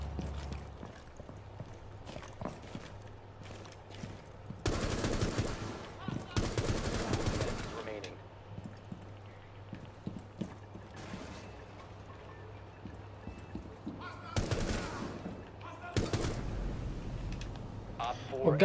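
An L85 assault rifle fires in Rainbow Six Siege, two loud sustained bursts of rapid automatic gunfire separated by quieter stretches, with a voice talking throughout.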